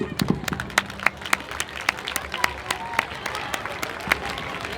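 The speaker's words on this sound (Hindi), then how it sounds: "जोरदार तालियां" Loud, sustained applause from an audience at a stage event marking Swami Vivekananda's birth anniversary, with dense clapping and sharp individual claps standing out throughout.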